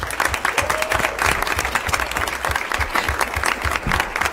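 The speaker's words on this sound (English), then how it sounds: "If we get a round of applause for Ron Chase." A school board meeting audience applauds Ron Chase, dense steady clapping from a crowd filling the room, moderately loud and continuous throughout.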